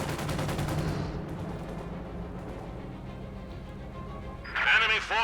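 An MG42 machine gun fires in Company of Heroes 2 as a rapid burst of close shots that fades into a low rumble, with a brief bright tone near the end.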